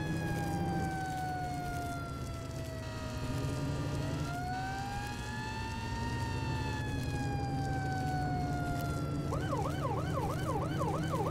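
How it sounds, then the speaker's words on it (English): Emergency vehicle siren in the Flashing Lights game, loud and continuous, with long slow wails gliding up and down over engine rumble, switching near the end to a rapid yelp pattern. "I like that you have different siren options"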